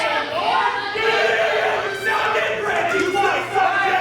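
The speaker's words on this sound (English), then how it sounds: "it sounds like they love Mo" A wrestling crowd cheers and shouts in a large arena, a loud, swelling mass of voices that rises and dips in waves without a break.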